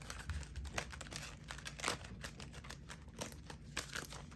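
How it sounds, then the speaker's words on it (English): Quick crinkly shuffling of stiff tarot cards, a steady papery riffle and slide repeating close by, with no voices. "just give me a moment to shuffle."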